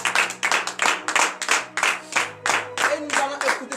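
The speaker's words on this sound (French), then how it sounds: "je vous demande d'applaudir encore très fort ce matin" A church congregation at a Wednesday morning prayer service in Benin applauding the word of God, with loud, rhythmic clapping in steady, close bursts over a sustained musical tone and some voices.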